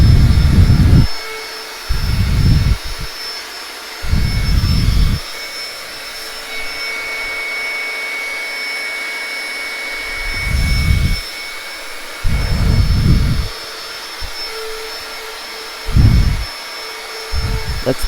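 A vacuum cleaner roars in repeated bursts, switching on and off about seven times, loud and close, each run lasting a second or so with quieter gaps between.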